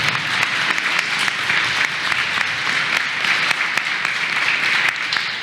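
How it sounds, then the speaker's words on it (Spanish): A church congregation at a Sunday service gives its pastor a strong round of applause. The clapping is loud, dense and sustained throughout, with no voices over it. "Qué tal si le damos un fuerte aplauso de honra a nuestro pastor"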